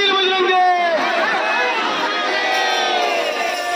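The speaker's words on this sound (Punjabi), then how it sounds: "ਇੱਕ ਸੋਹਣਾ ਜਿਹਾ ਜੈਕਾਰਾ ਲਾਓ" A crowd of devotees at a Hanuman Janmotsav gathering shouts a religious Jaikara chant together, many voices rising and falling in a loud, close, sustained cheer.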